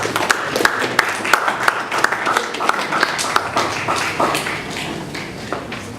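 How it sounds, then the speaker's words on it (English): Scattered audience applause at a conference dialogue session on electricity customer education, sparse and uneven handclaps rising and falling over about six seconds, moderately close with no talk over it. "A round of applause for her."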